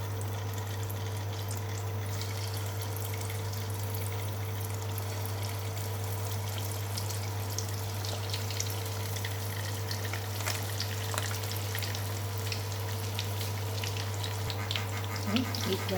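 Tofu veggie balls shallow frying in hot oil, a steady low sizzle and crackle running throughout under a constant mechanical hum, with faint bursts of popping toward the end.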